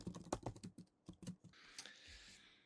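Typing on a computer keyboard, a quick run of close, crisp key clicks with a few short pauses, followed by a softer stretch of faint tapping and hiss.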